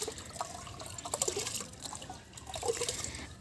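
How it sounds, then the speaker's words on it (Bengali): Rice being washed in water makes quiet splashing, trickling and dripping sounds in close, uneven bursts, with no talk. "এখানে আমি ভাতের চাউলটা ধুয়ে নিয়েছি"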